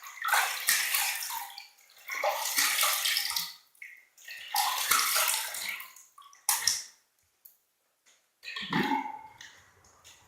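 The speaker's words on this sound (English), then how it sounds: "Final rinse here." A straight razor from a classic wet shave is swished and rinsed in a bowl of water, giving five splashy, close sloshing bursts separated by short pauses, with no talking.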